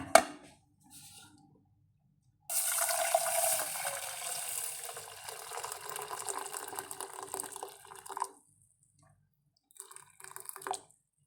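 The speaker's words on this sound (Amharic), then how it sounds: "ከዛ ውሃ ጨመርኩለት።" Boiling water poured onto flaxseed to make a gel hair mask: a steady, close pour lasting about six seconds, framed by a few brief drips and clinks before and after.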